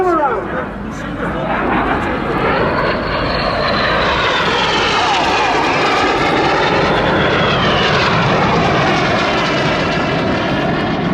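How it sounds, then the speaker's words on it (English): Red Arrows jet aircraft performing aerobatics at the Southport Airshow, heard as a loud, sustained engine roar whose pitch swoops and bends steadily as the jets manoeuvre overhead and stay close throughout. "Red 1 flies a barrel roll in the sky, leaving a snake-like smoke trail in the sky"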